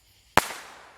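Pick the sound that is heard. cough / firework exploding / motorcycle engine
firework exploding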